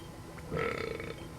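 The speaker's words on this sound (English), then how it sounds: "Belch." A belch sound effect from a computer game's sound board, one short close burp that stands alone, with no voice.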